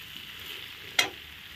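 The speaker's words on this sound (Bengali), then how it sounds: "তো এখন আমি হলুদটা দিয়ে দেবো। ভালো করে নাড়াচাড়া করে কষিয়ে নিলাম।" Papaya, squash and potato with turmeric frying in a pan, a soft continuous sizzle with a single brief scrape of stirring near the end, close and fairly quiet.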